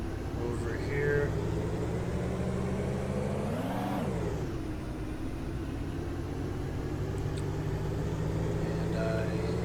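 A car in an Unreal Engine video game drives with a steady synthetic engine drone, and its pitch briefly rises and falls midway while someone talks over it.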